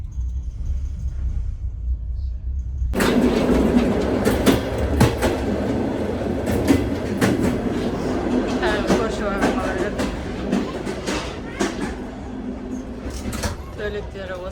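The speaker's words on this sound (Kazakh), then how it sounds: "24 сағат пойызда отырмыз, достар." Steady rumble and rattle inside a moving passenger train compartment on a 24-hour journey, with periodic clacks and creaks over a continuous low drone, close and moderately loud; faint voices sit in the background.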